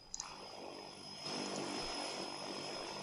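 A propeller airplane drones in the airport management game AirportCEO, the engine noise swelling to a louder, steady roar partway through.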